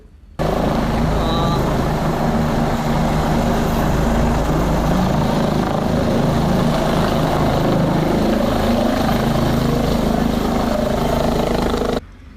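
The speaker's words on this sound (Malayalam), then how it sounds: "നേതാക്കൾ സഞ്ചരിച്ച ഹെലികോപ്റ്റർ വാനിൽ താഴ്ന്നു പറന്നു റിപ്പൺ തലക്കലിലെ ഫുട്ബോൾ മൈതാനത്ത് ലാൻഡ് ചെയ്തു" A helicopter flies low and lands on a football ground at Rippon, Thalakkal: a loud, continuous rotor and engine roar holds steady for about twelve seconds, close overhead, with a low rumbling drone and no voices.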